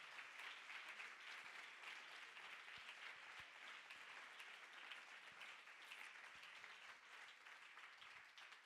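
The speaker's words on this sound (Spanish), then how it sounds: "Dele ese aplauso al Señor en esta mañana." A church congregation applauding the Lord during a Sunday morning sermon: sustained, even crowd clapping, a full wash of many hands, steady and unbroken throughout, heard from a distance with no voices over it.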